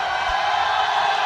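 A Swedish team chants and cheers from the crowd at a powerlifting deadlift competition, a dense, steady wall of voices with no breaks.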